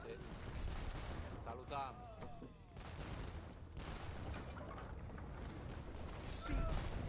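Organ guns in Age of Empires firing volleys at villagers during a 1v1 Arabia ranked game, a dense continuous rattle of gunfire with scattered impacts, while a voice talks over the battle.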